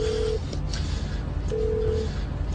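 Telephone keypad tones beep in two distinct bursts, a short one and a longer one, over a dense low background hum.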